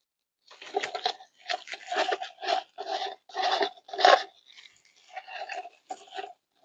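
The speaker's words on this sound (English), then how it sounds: "Scrape all of this out of here." Tool scraping leftover resin out of a pumpkin-shaped mould, making close, rhythmic rasping strokes in a steady series of short bursts with brief gaps, no voice.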